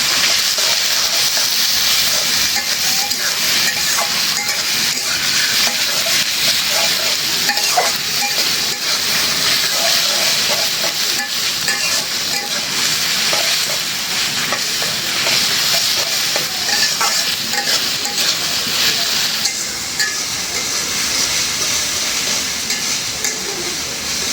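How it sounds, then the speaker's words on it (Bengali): Onions fry loudly in a pan of hot oil, a dense, continuous crackling sizzle heard up close and unbroken from start to finish. "পেঁয়াজটা পুরো ভাজা হয়ে গেছে"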